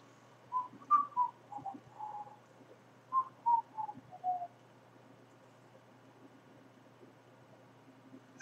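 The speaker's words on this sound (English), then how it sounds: "Now I'm just going to whistle and look out the window." A person whistles a short, faint, wavering tune of about a dozen soft notes in two phrases, followed by several seconds of near silence.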